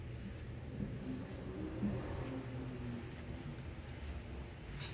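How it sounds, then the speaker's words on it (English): Steady low rumble of cars going by on a street, a continuous engine drone with no clear talking. "Cars going by."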